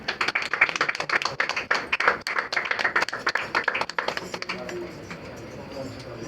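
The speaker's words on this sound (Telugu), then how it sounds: "చప్పట్లు కొడదా" Rapid, dense clapping from a group at a gold ring engagement ceremony, loud and continuous for about four seconds before thinning out into quieter background murmur.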